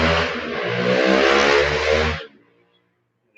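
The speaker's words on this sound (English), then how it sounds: "I hate these noisy cars that pass by" A loud, noisy car revs and passes close by, its engine note rising and falling with harmonic growl before cutting off abruptly into near silence.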